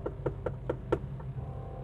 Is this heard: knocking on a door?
yes